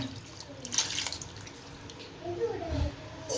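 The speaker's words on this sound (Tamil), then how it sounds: "இப்போ உருளைக்கிழங்கு வேகிறதுக்கு நம்ம கறியை வேக வச்ச தண்ணியவே இதில் சேர்த்துக்கலாம்" Meat-cooking water is poured from the beef into a pan of potato curry, giving a brief splashing, trickling pour with a gurgling burst near the end.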